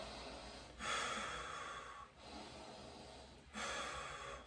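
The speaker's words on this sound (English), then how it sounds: "and breathe in through your nose." Nasal in-breaths during a home breathing exercise with shoulder rolls, three strong sniffing inhalations spaced about 1.5 seconds apart, close and fairly loud with no talking.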